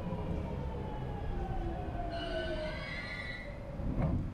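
A train passes in the video game Stray, a loud low rumble of rolling stock with high metallic wheel squeals gliding over it, continuous and close, without talk.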